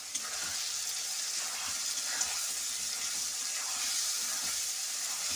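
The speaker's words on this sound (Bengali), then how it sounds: "তো মশলা বাটিটা ধুয়ে একটু জল দিচ্ছি।" Water is poured from a rinsed spice bowl into a pan of Bengali-style alu dom, making a continuous hissing sizzle and splash that holds steady at moderate loudness, with no talking.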